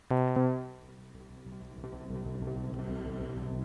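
A struck tone rings out then dissolves into a shimmering, textured wash of repeating fragments and reverb from a Microcosm granular effects pedal, swelling softly and sustaining at the end.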